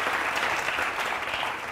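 A studio audience at a courtroom-style TV talk show breaks into dense, loud applause, a continuous wash of clapping that holds briefly and eases slightly at the end.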